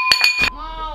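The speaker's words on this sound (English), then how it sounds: "that was a glass bowl and it did not break" A glass bowl is knocked and clinks without breaking: three quick bright taps ring out, then a clear ringing tone decays. A voice sounds faintly alongside.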